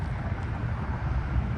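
Wind buffets the microphone beside a three-track railroad crossing near a depot, a loud continuous low rumble with gusty swells and no voices.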